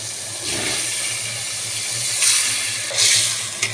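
Beef pieces drop into a hot pan already seasoned with cardamom, cinnamon, salt and bay leaves, sending up a steady hissing sizzle with a few louder bursts of steam.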